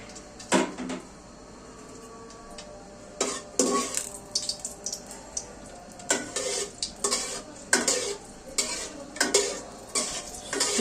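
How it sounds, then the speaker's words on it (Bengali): Dried red chillies fry in hot oil in a cooking pot for bhuna khichuri, with soft sizzling broken by sharp clatters and scrapes of stirring, a few in quick clusters. "শুকনা মরিচটা লাল করে আমি ভেজে নিব"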